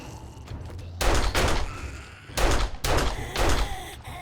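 Gunfire in the survival game 7 Days to Die, heard as several loud bursts of rapid shots separated by short pauses, close and dominant over a quiet background.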